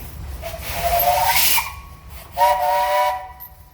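Steam traction engine at a parade of antique engines blowing its whistle: two long, loud blasts with a hiss of steam, one after another.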